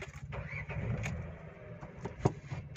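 A Renault Triber car engine idles after being shifted into reverse gear, a steady low rumble with some clicks and a sharp knock near the end, fairly close and without talk.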